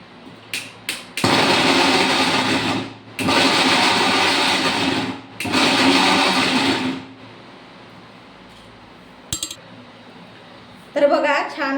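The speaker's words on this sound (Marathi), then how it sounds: "तर आता छान असं बनवूया मिक्सरमध्ये." An electric mixer grinder runs in three loud, steady whirring bursts separated by short pauses while grinding mango chutney with garlic, chili and salt, followed by a clink and a brief spoken remark.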